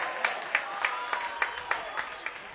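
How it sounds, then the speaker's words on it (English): Stadium crowd at a soccer match between Real Monarchs and Whitecaps FC 2 during a shootout, a steady fired-up roar with rhythmic claps and chant-like bursts pulsing roughly every third of a second, fairly distant. "The crowd here fired up."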